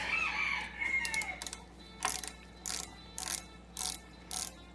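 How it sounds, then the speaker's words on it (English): Bobbin holder being removed from a Singer VS2 sewing machine: a few scraping metal sounds, then a series of short, sharp clicks and ratchet-like snaps at regular intervals, close by. "I'm gonna get this bobbin holder off."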